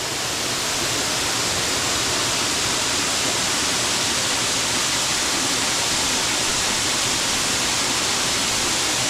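Sougahoagdee Falls in Alabama roars as a steady, dense wash of falling water, loud and close, unbroken from start to finish with no voices.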